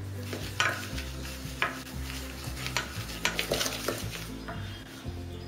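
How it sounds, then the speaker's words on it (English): Butter and sugar beaten in a mixing bowl, repeated rhythmic scraping and knocking strokes against the bowl, steady and close with no talking. "Into a mixing bowl, add in the butter and sugar. Beat this well for about 3 to 5 minutes."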